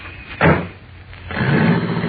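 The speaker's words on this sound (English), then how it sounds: "Close the door, will you, Kent?" A car door slamming shut, one solid thump near the start followed by a low rumbling hum that swells and holds steady, as from a vehicle close by in an old radio-drama scene.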